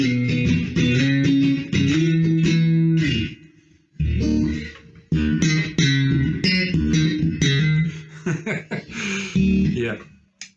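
A finished handmade Blackwood Telecaster-style electric guitar is played on its middle-position single-coil pickups, with loud, bright strummed chords and picked notes, short pauses and a brief break near the middle.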